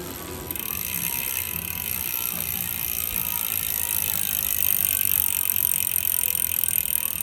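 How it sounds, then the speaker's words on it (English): Freehub body of a DT Swiss G540 wheelset on a 2022 Specialized Crux Comp gravel bike freewheeling: a fast, continuous high-pitched buzzing tick that holds steady throughout, close by and with no talking. "free out body sound test on these DT Swiss G540 wheel set"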